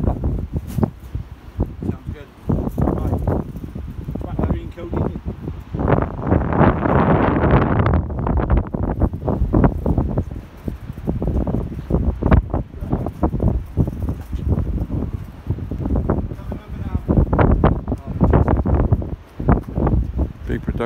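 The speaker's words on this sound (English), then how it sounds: "Very windy." Heavy wind buffeting the microphone on a Welsh beach near a film crew's catering tent, a constant low roar with gusts rising and falling under someone talking.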